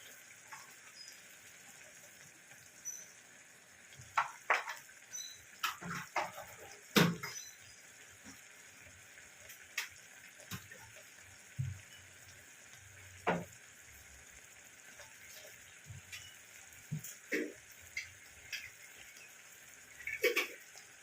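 Kochu greens sautéing in a pan with turmeric and Kashmiri chilli powder, a soft steady sizzle broken by intermittent scraping and stirring clinks, near and moderately quiet, no talk.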